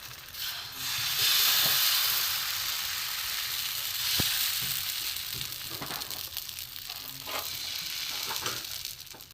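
Potato roll frying in a pan for a morning tiffin recipe, a steady close sizzle and hiss of oil running throughout, with occasional soft stirring or scraping touches and no talking.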